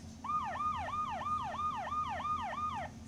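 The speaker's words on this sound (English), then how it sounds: "Sirens are special equipment on fire trucks and police cars that make a loud, wailing sound." An emergency vehicle siren of the kind used on fire trucks and police cars wails in a fast, regular up-and-down cycle, steady and fairly loud over low traffic rumble.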